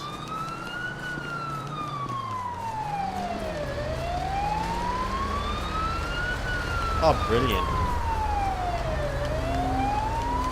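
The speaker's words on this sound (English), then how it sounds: "We'll kill this bloody siren. Man, that's loud." A video game police car siren wailing, rising and falling in slow sweeps, loud and close, with a brief voice speaking over it.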